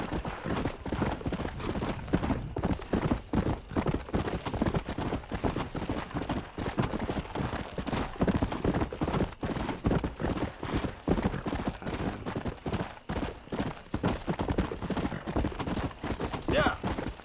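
A horse gallops steadily in Red Dead Redemption on Xbox One, its hooves beating a continuous clip-clop rhythm throughout, with a brief whinny along the way.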